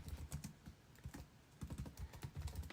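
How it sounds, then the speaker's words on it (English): Typing on a computer keyboard, close and fairly quiet, with quick irregular clusters of key clicks and a short pause partway through. "So I'm going to type that out"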